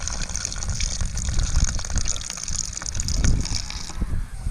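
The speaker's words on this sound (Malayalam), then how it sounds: "നമുക്ക് ഈ മസാലക്കൂട്ടിലോട്ട് ബിയർ ഒഴിച്ച് കുഴയ്ക്കാം." Beer poured into a spice masala mix for marinating chicken, a steady close splashing gush of liquid running for several seconds with soft kitchen clatter.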